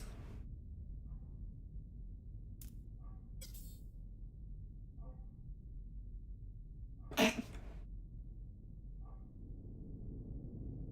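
A single sneeze bursts out suddenly, near and loud, against a quiet hissing room background with a few faint clicks.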